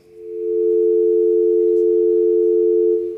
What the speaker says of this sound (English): Dial tone.